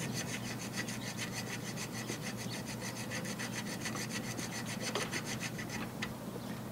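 A chainsaw file fitted with a handle rasps against wood between drilled holes in a fast, steady back-and-forth rhythm. The scraping is close and continuous, with no talking.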